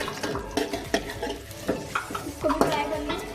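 White cumin fries in a pan while a utensil stirs with repeated clinks and scrapes in an uneven rhythm over a light sizzle.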